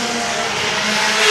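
Race cars roar past while the leaders work through slower lap traffic on lap 28 of a feature race, a loud, dense, continuous engine drone with a slight swell toward the end.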